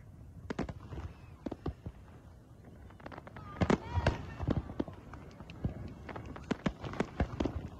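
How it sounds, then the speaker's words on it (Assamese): New Year fireworks over Taiwan pop and crackle in scattered bursts, some sharp and close, others fainter and distant, with whistling trails and a murmur of voices underneath. "আকাশতো দেখিবলৈ পোৱা হ'ল ৰং বিৰঙী ফটকা আতচবাজিৰ সমাহাৰ"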